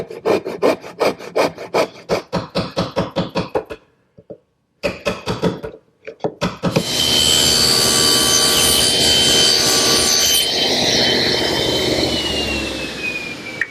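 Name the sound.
hand saw cutting walnut in a side vise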